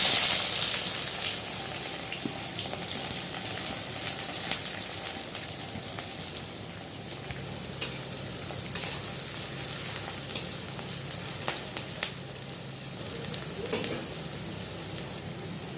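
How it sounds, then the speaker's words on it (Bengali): Chopped onion frying in hot oil with cinnamon, cloves, cardamom and a bay leaf for Bengali dhokar dalna, a steady bright sizzle heard close and alone throughout, with occasional stirring clicks. "এবার পেঁয়াজ কুচি দিয়ে দেব।"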